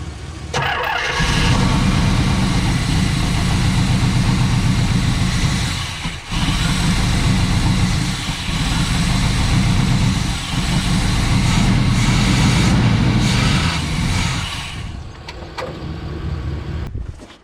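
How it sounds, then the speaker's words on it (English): A 1978 Pontiac Trans Am V8 cranks and catches, then settles into a loud, steady idle with a deep rumbling throb, briefly dipping a few times before cutting off at the end. "Well, I'd have to say that seems to be a good motor."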